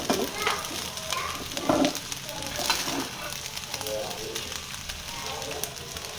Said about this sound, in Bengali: এই দুইটা বক্সের বিরিয়ানি আমি এই কড়াইতে দিছি